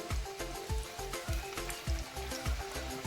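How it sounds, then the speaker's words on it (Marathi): Chakli dough fries in hot oil with a faint, steady sizzle, punctuated by soft low thumps recurring at a regular, quick rhythm. "आपण आता याच्यामध्ये चकली सोडून घेऊयात बघा या पद्धतीने एक चकली सोडायची"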